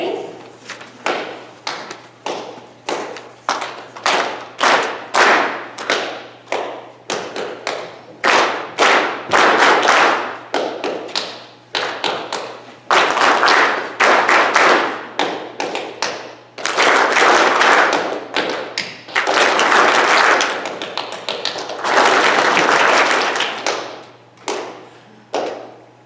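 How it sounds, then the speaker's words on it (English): A group claps a rhythm together at a dance gathering, bursts of sharp claps repeating in short patterns, loud and close, with brief pauses between phrases. "I'm going to clap a rhythm and then you repeat it after me."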